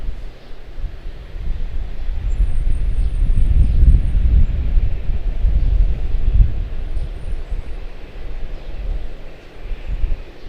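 A 17-year-old American Airlines jet airliner on flight 886 to Cancun produces a deep, steady roar at an airport, swelling loudest midway and then easing off, with a rumbling low end and some wind buffeting.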